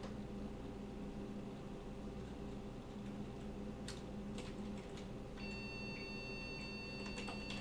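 A PC beeps faintly while its keyboard keys are pressed, giving a few short high tones and clicks toward the end over a steady low electrical hum, quiet and without voices.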